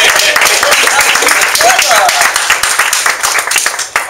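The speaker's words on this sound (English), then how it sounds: "Give Eric a big round of applause." Attendees at a San Bruno networking meetup clap for a man named Eric, loud close-up applause with hints of voices, tapering slightly toward the end.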